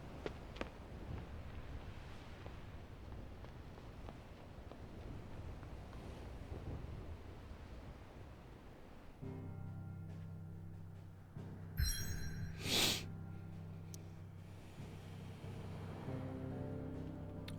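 Ship sailing on the sea in a Final Fantasy XVI cutscene: a steady wash of wind and waves rolls throughout, joined midway by a low droning hum and a couple of brief bright swooshes.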